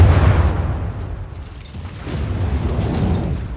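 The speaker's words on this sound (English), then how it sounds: "One cram cannon shot." A cram cannon fires in the From the Depths game, a deep rumbling boom that swells at the start and rolls on as a low, noisy roar, with no talking.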